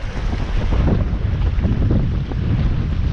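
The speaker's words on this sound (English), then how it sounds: "The wind is quite annoying today." Strong wind blowing at a riverbank while fishing, a loud continuous low buffeting rumble across the microphone with no pauses and no one talking.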